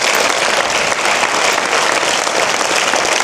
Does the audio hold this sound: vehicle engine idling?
no